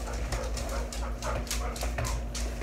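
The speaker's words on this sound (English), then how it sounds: "I'm just gonna leave the dog outside" A dog left outside at a country home whimpers and yips in short, repeated bursts, moderately close over a constant low background hum.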